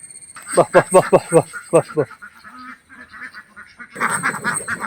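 Native Kuttanad ducks in Kerala quack in a rapid series of loud, nasal calls, then pause, followed by a denser burst of overlapping quacking and flock noise.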